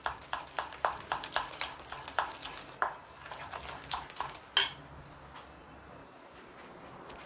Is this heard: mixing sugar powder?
yes